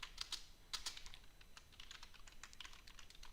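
Code is typed on a computer keyboard during a Python tutorial, a quick run of soft, close key clicks that keeps going with no talk.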